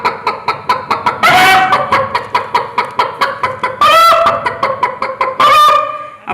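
A performer's voice imitates a hen clucking and calling to a rooster at dawn, part of a school arts festival mimicry act: rapid rhythmic clucks broken by three loud drawn-out squawking cries, close and alone with no talk.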